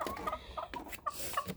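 Young chickens cluck and chirp softly near the microphone, with short, irregular calls and quiet rustling, fairly faint and with no talking.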